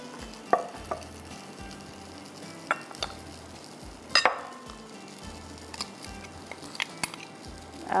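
Cheddar cheese roll filling being stirred and mixed in a bowl, with scattered clinks and scrapes of a utensil against the side over a soft background hiss, fairly quiet and irregular.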